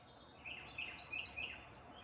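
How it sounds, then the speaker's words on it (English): Springtime birds just outside a window, a series of short high chirps repeating quickly for a couple of seconds, fairly faint against a soft background hiss. "there are birds chirping like crazy"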